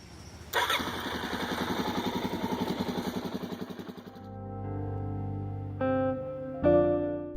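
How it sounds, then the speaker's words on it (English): A motorcycle engine, freshly repaired with a new part, cranks and catches, then runs at a steady, throbbing idle up close before settling into a smooth, lower idle with a couple of brief blips of the throttle. "I finally got the new part, and the bike is running very well now"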